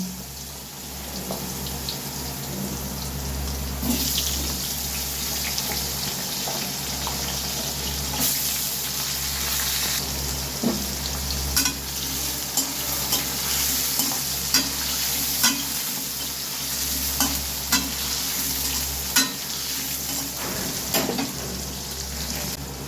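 Cut potatoes frying in a pan for a Bengali curry with hilsa fish head and chickpeas, a loud, continuous sizzle with repeated scraping and clacking of the stirring spoon, no talking.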